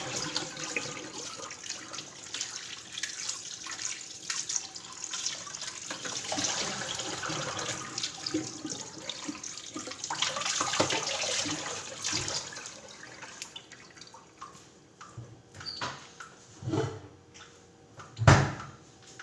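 Raw chicken washed under a running kitchen tap for chicken soup, water splashing and gushing into a sink in uneven bursts, with handling clatter and a few sharp knocks near the end.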